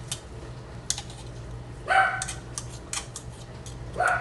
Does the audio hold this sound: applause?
no